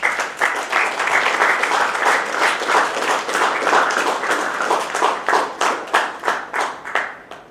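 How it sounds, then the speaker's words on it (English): An audience at a mobile app launch in Armenia gives a round of applause, full and sustained at first, then thinning into separate rhythmic claps that fade toward the end. "Give HitchLine a big round of applause"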